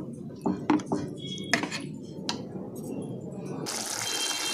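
Marinated chicken for rezala is stirred in a pan, with a metal spoon giving scattered clinks and scrapes against the pan, and a soft sizzling hiss swells near the end. Quiet and close.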